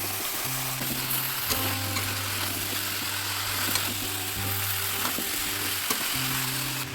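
Potatoes go into a pan of frying spices for a thin mutton curry. A steady, close sizzle and crackle of hot oil runs continuously, with a faint low hum underneath.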